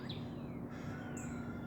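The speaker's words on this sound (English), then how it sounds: "the birds are hiding, tuning up. Boy, they're singing real good this morning." Birds chirp faintly in the woods behind a house with a bird sanctuary on a morning, giving a few brief high calls over a steady low hum and background hiss.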